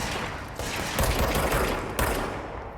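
Sustained gunfire fills the Control video game scene, a dense, loud stream of shots with sharper bursts near one and two seconds and no talk over it.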